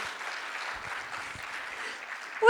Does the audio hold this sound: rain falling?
no